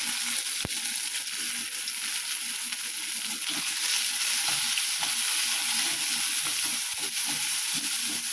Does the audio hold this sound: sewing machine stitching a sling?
no